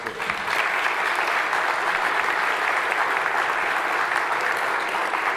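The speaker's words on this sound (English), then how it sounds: "Please give him a great round of applause" Sustained audience applause at a spring garden band concert, dense and steady throughout after a brief start, loud and unbroken by talk.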